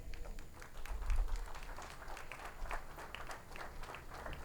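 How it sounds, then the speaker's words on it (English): An audience claps at a community press conference on youth violence, a soft, steady patter of many hands with scattered sharper claps, heard from a distance and fairly quiet, with faint crowd murmur beneath. "Keep clapping, don't stop."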